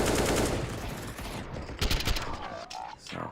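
Counter-Strike gunfire during a professional match, with a loud burst of rifle shots around the midpoint amid game ambience, then scattered fainter shots and effects toward the end.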